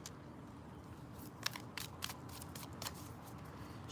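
A tarot card deck is shuffled by hand, giving a quiet run of soft papery riffles and crisp snaps at close range against a faint background, with no talking.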